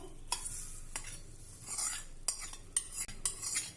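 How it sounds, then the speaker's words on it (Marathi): Spoon clinks and stirring scrapes ring out in short bursts as a ghee tempering of cumin, mustard seeds, a pinch of asafoetida and curry leaves is poured over chutney, with a faint sizzle underneath and no talking. "ही तयार फोडणी आता आपण ह्या चटणीवर घालू"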